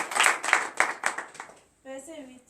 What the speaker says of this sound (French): Donnez l'acclamation à ce Seigneur.